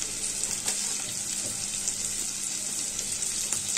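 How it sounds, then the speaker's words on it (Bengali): Chopped carrots tossed into onions already frying in a pan set off a loud, continuous sizzle with faint stirring scrapes, close up and without speech. "এবার আমি কিছু কুচিয়ে রাখা গাজর এতে দিয়ে দিচ্ছি"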